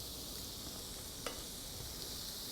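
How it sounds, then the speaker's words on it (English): Zucchini ribbons sizzle on a hot grill, a constant bright crackling hiss with a soft click partway through, close and without speech. "Ah, I love that sizzle."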